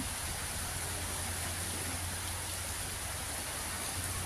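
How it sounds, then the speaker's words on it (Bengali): Heavy monsoon rain pours down outdoors as a dense, unbroken hiss, steady and loud throughout, with no voices over it. "অনেক বৃষ্টি হচ্ছে"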